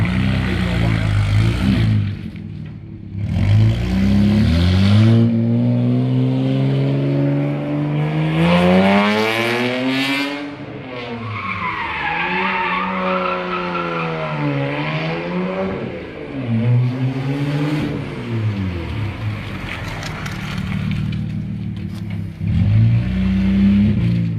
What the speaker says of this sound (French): On les entend les turbos en plus le pire.